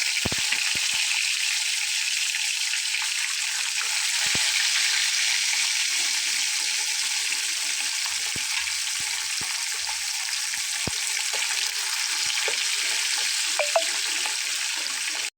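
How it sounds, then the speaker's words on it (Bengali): Hilsa fish pieces fry in oil with a steady, dense hiss that fills the whole stretch, broken by occasional soft knocks and clicks from the pan. "আমার মাছ ভাজা হয়ে গেছে"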